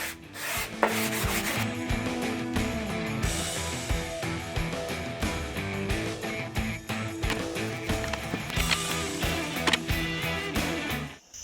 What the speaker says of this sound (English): Just some light sanding to make sure everything fits perfectly.